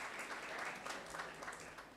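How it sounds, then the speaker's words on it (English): Applause from a conference audience on biobased environments and sustainability, a steady, even wash of clapping that runs the full two seconds, soft and somewhat distant, with no voices over it. "I expect a big applaud for this."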